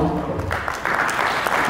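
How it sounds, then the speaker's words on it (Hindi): An audience applauds at an award ceremony in Agra, with clapping that swells under a voice speaking over it, close and fairly loud through the short stretch. "एक जोरदार तालियों के साथ"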